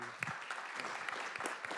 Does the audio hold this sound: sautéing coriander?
no